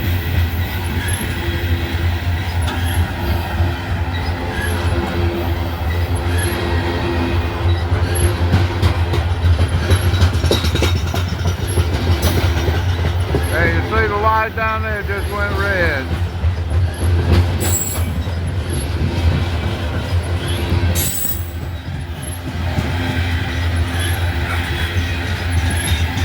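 A CSX coal train of rotary dump hopper cars rolls past steadily at close range, with low rumble, wheel clatter and a brief squeal, while someone talks over it.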